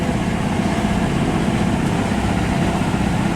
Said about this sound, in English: Full RPMs in reverse now.